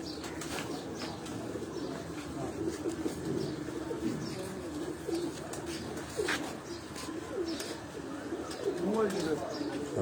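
Pigeons coo steadily on a rooftop loft, with occasional chirps and wing flutters, while voices talk in the background.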